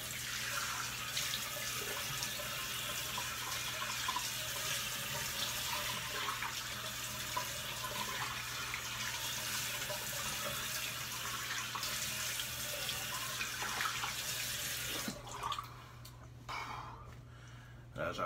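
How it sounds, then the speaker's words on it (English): Tap water running steadily into a sink for a cold rinse during a shave with a Bakelite slant razor, a continuous broadband splash that stops near the end, leaving quieter handling sounds. "Cold water rinse."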